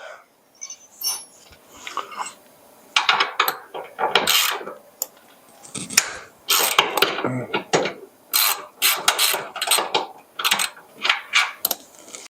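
Wrenches and sockets work bolts loose from the rock shaft of a John Deere 400 garden tractor, with irregular bursts of metallic ratcheting, clanks and knocks close by, separated by short pauses.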